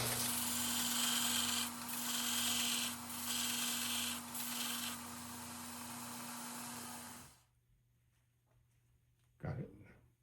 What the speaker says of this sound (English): Let's just try to sand that instead of milling it.